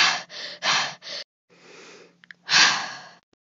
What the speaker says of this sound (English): There's breathing.